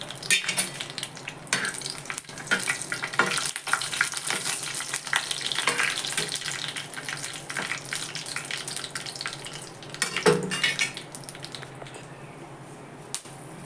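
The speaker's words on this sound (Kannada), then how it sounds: "ಆ ಒಣಮೆಣ್ಸಿನ್ಕಾಯಿ ಸೇರಿಸ್ತಾ ಇದ್ದೀನಿ ನೋಡಿ." Six dried red chillies sizzle and crackle in hot oil over a mustard seed tempering, with a stirring spoon scraping the pan now and then and one sharp clack near the end.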